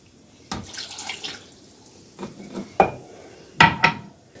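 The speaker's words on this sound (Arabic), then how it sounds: "هنضيف كوباية لبن" A cup of milk being poured into blender cake batter in a kitchen, heard as several short splashy bursts and glassy clinks of cup against container, close and fairly loud, separated by brief quiet gaps.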